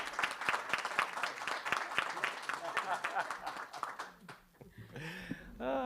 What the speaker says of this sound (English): Big round of applause, Mr. Billy Cothran.